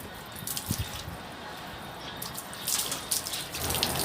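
Water trickles and splashes through a simple homemade siphon hose, draining from a higher container to a lower one. It is a soft, fairly quiet flow with small gurgling spurts and drips that grow a little busier toward the end.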